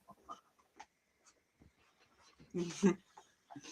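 Dogs whimpering and letting out a few barks, with a louder burst near the end, over an online wrestling review show call where people talk.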